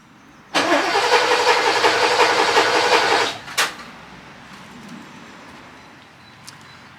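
Porsche 928 V8 engine cranking and firing up on a ramp: a loud broadband roar of starting and revving for about three seconds, then a sharp blip before it settles into a quiet idle.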